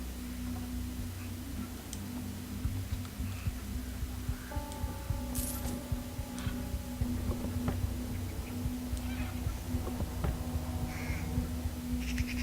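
A bird in the stealth video game Thief caws repeatedly over a low, steady ambient drone, with several separate harsh calls spread across the scene at moderate volume.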